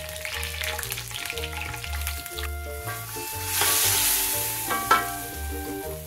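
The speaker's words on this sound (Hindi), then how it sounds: "3 टेबलस्पून हमने इसमें घी डाल दिया है। तो ये हम तड़का रेडी कर लेंगे।" A tadka of three tablespoons of ghee with red chillies sizzles in a pan, a soft hissing crackle that swells in the middle, under steady background music with plucked bass notes.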